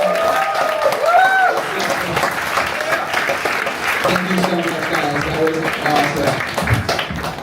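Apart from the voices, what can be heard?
audience round of applause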